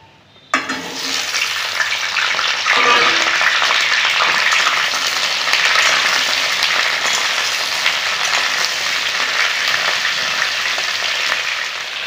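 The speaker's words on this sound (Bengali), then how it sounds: "এই ঢেঁড়সগুলো ভেজে নেব।" After a brief quiet moment, a loud burst of sizzling begins as okra hits hot oil, then keeps crackling steadily to the end.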